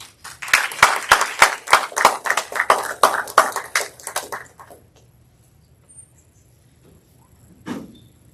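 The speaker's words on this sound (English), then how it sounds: "please give our candidates one final warm round of applause as they exit the stage" Audience claps for student debate candidates leaving the stage at a university election event, a burst of loud, close hand claps lasting about four seconds that quickly fades into a quiet room, with one faint knock afterward.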